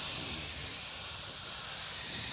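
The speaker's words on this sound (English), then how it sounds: "Instead of spraying straight, I'm going to face this way so it doesn't go into my door jamb." Aerosol spray paint hissing steadily onto a car's body near the door jamb, a continuous close, loud airy hiss that holds without break, no talking over it.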